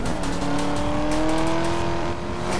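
Race car engine drone with tire noise from a video game, a steady whining pitch slowly rising over continuous loud rumble, with no talking.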